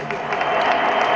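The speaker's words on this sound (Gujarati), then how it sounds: "ઢોલક ઉપર પોરબંદરનું ઘરેણું, પોરબંદરનું ગૌરવ, અસંખ્ય વાર વિદેશ ટૂર કરી એવા અત્યારે રાજકોટ વસી ગયા છે માસ્ટર ફજલ ઉસ્તાદને જોરદાર તાળીઓથી વધાવો" A crowd at a devotional Bhagavat Saptah gathering applauds to welcome a dholak player, a steady wash of clapping, loud and continuous, with some voices mixed in.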